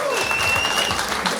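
Studio audience applause at a Quebec comedy game show taping, a dense steady wash of clapping filling the short moment, with faint voices mixed in underneath.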